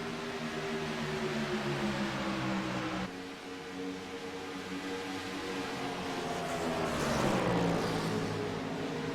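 Race cars on a short oval track roar past in a dense pack, a steady loud engine drone with a brief dip and then a rising surge as another group sweeps by near the end.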